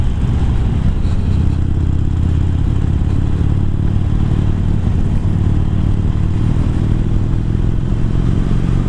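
A motorcycle on a short road ride along passing lanes, its engine droning loud and steady close to the rider with wind rumble and clatter throughout, no voices.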